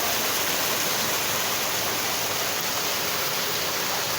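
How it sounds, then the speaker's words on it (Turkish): A small stream rushes beneath a restaurant at Cazılar Deresi in Özdil, Yomra, Trabzon, making a steady, loud, broadband wash of flowing water with no pauses or voices. "Bu restoranın altından böyle küçük bir dere akıyor gördüğünüz gibi."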